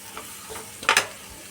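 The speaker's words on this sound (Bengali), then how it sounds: "জাস্ট কড়াটার মধ্যেই আমি সুন্দর করে এটা পেঁয়াজ আর টমেটোটা ভেজে নেব।" Onion and tomato frying in a kadai, with a soft steady sizzle and a brief louder scrape of stirring near the middle, close and without any talking.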